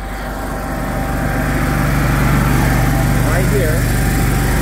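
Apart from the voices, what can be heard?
air compressor starting and running on service truck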